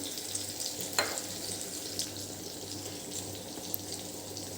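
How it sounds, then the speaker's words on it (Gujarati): Tomatoes sautéing in a pan for a Punjabi-style dum makai curry made without onion or garlic, giving a steady soft sizzle with light stirring scrapes and a brief clink, no talk. "હવે ટામેટાં આપણા સંતળાય છે"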